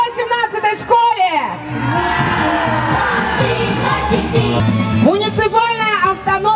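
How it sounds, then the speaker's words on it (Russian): A crowd at a May Day school celebration shouts a long, loud collective hurrah, rising from scattered voices into a sustained roar of cheering before breaking back into separate calls and whoops. "мы все вместе должны крикнуть «Ура 18-й школе!»"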